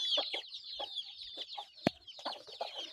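Several chickens cluck in short, irregular bursts nearby, with a brief sharp sound partway through and no talk.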